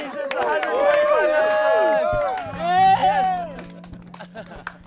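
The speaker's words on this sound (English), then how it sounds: "Everybody cheer." A studio audience cheers and whoops loudly at a live show's season finale, with excited voices swelling together, then the cheering tapers off into a low hum.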